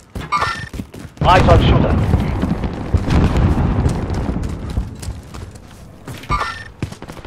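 A frag grenade explodes in Warzone on Rebirth Island, played on PS5, with a loud, close boom and a long rumbling tail. A short spoken callout comes just before the blast and another near the end.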